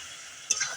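Eggs stirred into spice masala frying in a pan, a soft background sizzle broken by a short burst of scraping and sizzling near the end.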